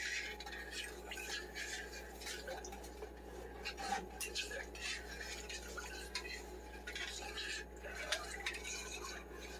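A spoon stirs beef and mushroom risotto in a pot, giving a steady run of soft scraping and clinking strokes at close range over a constant low hum, with no talk.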